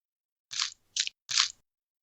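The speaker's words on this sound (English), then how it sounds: "Are you eating potato chips?" Crunchy potato chips are bitten and chewed close to a phone line, making three sharp, dry crunches in quick succession against near silence.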